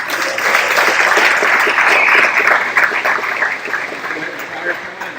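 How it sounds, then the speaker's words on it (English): Applause from guests at a US Navy retirement ceremony, a loud, dense burst of clapping that swells, holds, then thins out as it fades toward the end. "round of applause"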